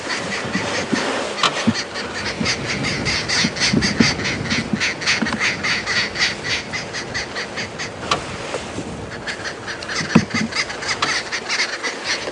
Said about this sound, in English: you can now hear, because the audio is streaming of course, the arrow-marked babblers calling